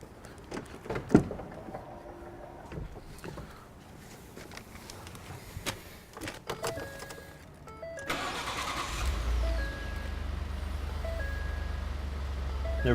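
A car engine cranks and catches, then settles into a steady idle after a stretch of quieter clicks and handling noises, heard close with no talking.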